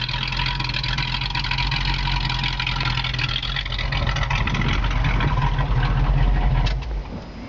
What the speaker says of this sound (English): That's what a muscle car should sound like.